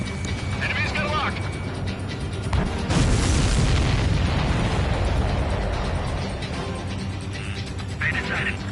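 A missile attack in the Ace Combat Skies Unknown flight game, with a steady roar of jet engine and combat noise, a heavy blast near the middle, and radio voices talking over it throughout.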